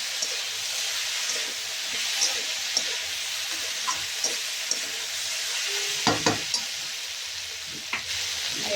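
Dried red chillies hissing and crackling in hot oil in a pan, a steady sizzle with occasional clinks and scrapes as they are stirred.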